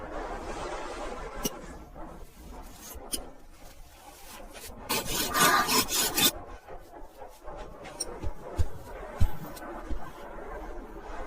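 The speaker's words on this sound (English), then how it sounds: "scrape off all the fat and leftover meat on the inner side" Scraping fat and leftover meat from the inner side of an animal hide, a rough, rasping rub that repeats unevenly, growing louder and denser midway with sharper strokes near the end, no talk.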